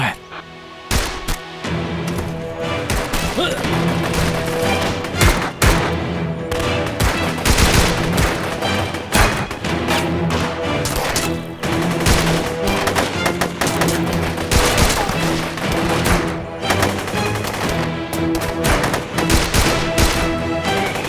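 Dense bursts of gunfire and rapid machine-gun volleys in a dubbed action drama, loud and continuous, with a brief shouted voice near the start.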